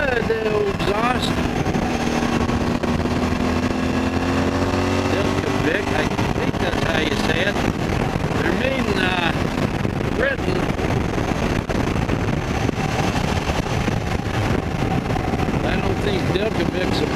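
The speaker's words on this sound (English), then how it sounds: "Sounds pretty good, the old exhaust." A 2018 Suzuki V-Strom 1000 engine drones steadily while riding, its exhaust rumbling with shifting pitch, loud and continuous throughout.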